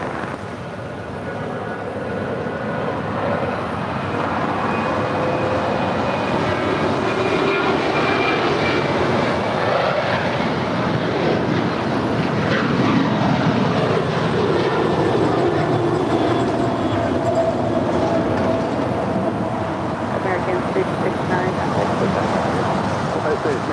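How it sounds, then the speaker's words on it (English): American Airlines Boeing 737-800 jet departing LAX for Chicago, a loud broad jet roar that swells and holds steadily throughout, with people talking underneath at times. "That is American 669 departing to Chicago. It's a 737-800."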